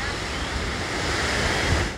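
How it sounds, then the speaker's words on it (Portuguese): Strong wind buffets the microphone on a seashore in Fortaleza, Ceará, over a steady roar of surf, loud and continuous throughout. "E tá ventando, hein?"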